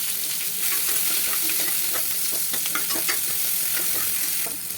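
Sliced onion frying in sesame oil with mustard and fenugreek seeds, giving a steady hissing sizzle broken by scraping stirs of a spoon in the pan, close and continuous.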